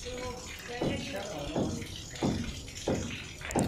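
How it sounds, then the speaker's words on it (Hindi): Water gushes from a tap in a household water line, a steady rushing flow with repeated surging splashes, fairly close and without talk. "फिर खोल के एक बार और देख लिए हैं कि कैसा पानी आ रहा है"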